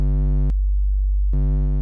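A sine wave synth voice in Bitwig, its fold shaping adding buzzy overtones, plays two loud steady tones with a short gap where only a plain low sine hum remains.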